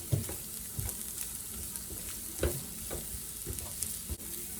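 Cooked egg and rice frying in a pan, stirred with a utensil: steady close sizzle with soft scraping strokes at irregular intervals, no talking.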